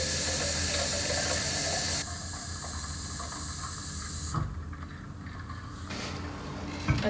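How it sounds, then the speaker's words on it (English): A water bottle being filled with water: a steady rushing stream of running water, then a quieter trickling stretch and some faint clicking at the end, close by with no talking. "And then fill it up with water"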